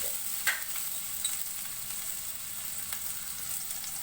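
Chicken fries in a pan with a faint, steady sizzle, broken by a couple of soft stirring scrapes near the start, with no talking.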